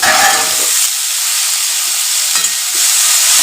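A pan of chopped banana stem, soaked in salt water, fries with a steady loud sizzle while a spatula stirs it, with scraping bursts at the start and again near the end.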